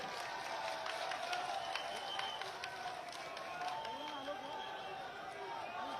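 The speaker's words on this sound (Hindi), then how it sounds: "तालियां हो जाए सीएम साहब के लिए" A crowd applauds Chief Minister Ashok Gehlot at the Rajiv Gandhi Rural and Urban Olympic Games event: steady, moderately distant clapping and crowd noise that carries through the whole stretch without fading.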